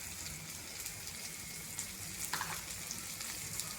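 Turmeric, red chilli and coriander powder sauté in a pan for tomato chutney, a soft, continuous sizzle with faint scattered stirring clicks throughout.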